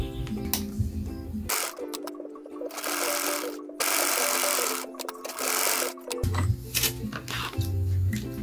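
Sewing machine stitching fabric, its rapid mechanical whirr running in two bursts at the start and end with a quieter stretch of handling noise between, close and steady.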